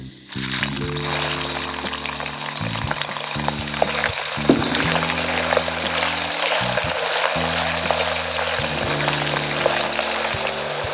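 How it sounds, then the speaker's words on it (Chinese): Beef sizzles and crackles loudly as it is stir-fried with chili in a hot wok, a dense, continuous frying hiss with occasional sharp pops and a low steady hum beneath. "我们就可以把牛肉放进去煸炒"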